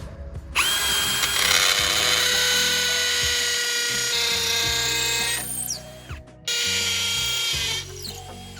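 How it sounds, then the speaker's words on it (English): A hammer drill fitted with a concrete bit bores into concrete during a basement bulkhead door replacement, whining loudly and steadily for about five seconds, stopping briefly, then starting again for a second burst. "Then I will put in the concrete bit, change this to hammer, and drill those."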